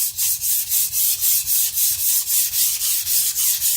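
A Shibata Kotetsu gyuto being sharpened on a wet Shapton Pro 220 whetstone gives a close, rhythmic gritty scraping, about three even strokes per second, steady and alone.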